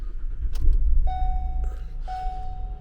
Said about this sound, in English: let's go ahead and start it up. key in the ignition.